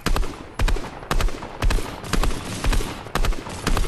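Rapid bursts of video game gunfire crackle in repeated clusters, each burst loud and close, separated by brief gaps in a steady rhythmic pattern.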